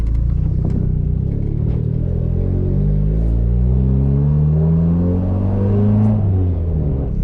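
A turbocharged Honda Civic pulls away, its engine droning loud and close as the pitch climbs steadily through rising revs, with a brief dip and rise near the end.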